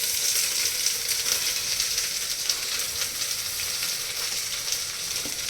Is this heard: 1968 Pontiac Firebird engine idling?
no